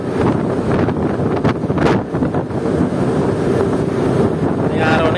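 Strong wind blowing through snow in Japan, a loud continuous roar buffeting close to the microphone with a few sharper gusts.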